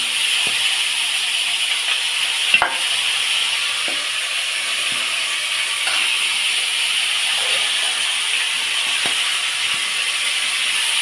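Constant hissing sizzle of soaked chana dal and potato frying in a pan, with a few faint clicks and taps, no voices.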